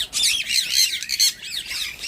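A parrot squawks loudly and close by, a harsh raspy call repeated several times in quick succession over about two seconds, with no talking.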